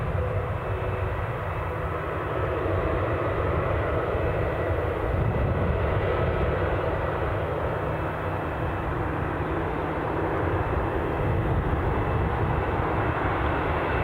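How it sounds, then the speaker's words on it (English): A KLM airliner taxis after landing at Newcastle Airport, on the far side of the terminal, giving a steady, fairly loud jet engine roar that continues without a break, with no voices. "look-see at our fast taxiing KLM arrival"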